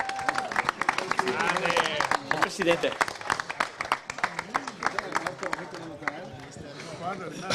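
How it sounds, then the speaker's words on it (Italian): A football awards gala crowd applauds an amateur team that won its centenary-year title. Dense, sharp clapping stays steady under a voice speaking over it. "Un grande applauso al 90."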